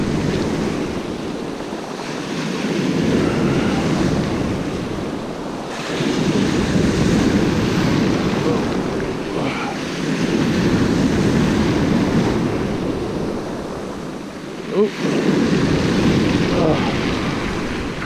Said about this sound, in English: Can I get it past these waves?